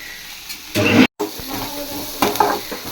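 Onions sautéing in a pan for a paneer curry, with a steady close sizzle and stirring scrapes that briefly cut out and then return slightly louder.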